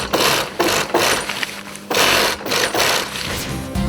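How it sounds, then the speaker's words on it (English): A sewing machine stitches nylon material in short rhythmic runs of close mechanical whirring and clatter, separated by brief pauses. "Did you like the sound of the sewing machine when it sewed all the material together?"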